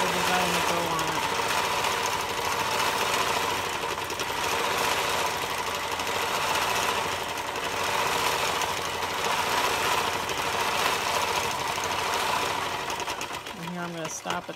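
A sewing machine fitted with quilting feet runs continuously at a fast, even stitching rhythm, close and loud, with brief pauses near the start and end, accompanied by talking throughout.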